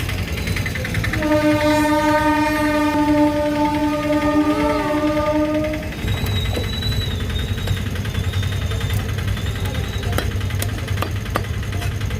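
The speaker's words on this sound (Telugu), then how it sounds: "ట్రైన్ బాగుంది" A train rumbles past with a loud, sustained horn blast for several seconds, then the rolling rail noise continues with faint high squeals.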